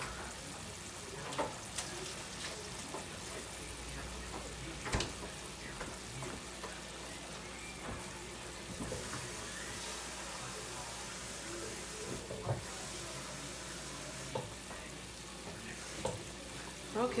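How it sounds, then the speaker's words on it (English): Butter sizzling and frying in a pan as gravy gets started for steak, a steady broadband crackle throughout with occasional louder pops and clinks, close and moderately loud. "add a nice amount of butter because we're going to make a gravy"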